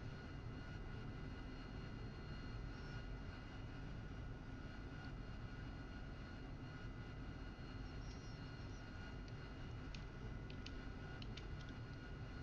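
An AV-8B Harrier jet in the DCS flight simulator powers up for takeoff, with a steady, loud engine roar and low rumble running without a break and no talk.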